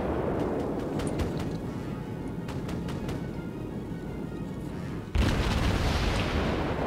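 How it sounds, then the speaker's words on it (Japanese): A ship blowing up in the naval combat game World of Warships, with a sudden loud blast cutting in after several seconds of quieter rumbling battle noise and scattered distant gunfire. "爆発したの目の前で"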